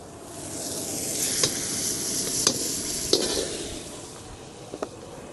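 Steady crackling sizzle of butter melting in a hot wok, broadband and continuous, with a few sharp clicks of a utensil scattered through.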